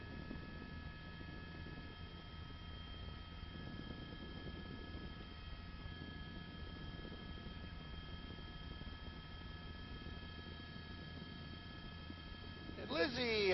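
A Los Angeles police helicopter hovers over a residential neighborhood during a high-speed chase, its rotor giving a steady, continuous drone throughout that swells sharply in the final moments.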